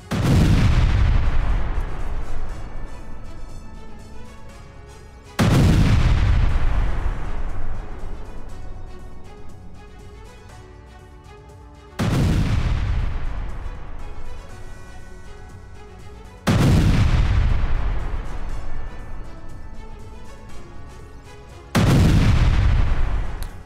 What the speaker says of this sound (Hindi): रूसी हमले के बाद भीषण विस्फोट हुआ।